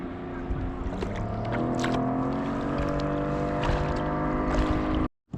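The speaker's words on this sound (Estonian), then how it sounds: "Nii üks paadike tuli siit päris eest kohe." A small boat passes close by on a lake while fishing for pike, perch and zander near Pärnu, its engine a steady loud drone throughout with wind buffeting the microphone, then a sudden cutoff near the end.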